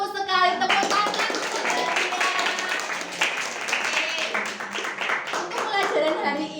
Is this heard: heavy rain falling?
no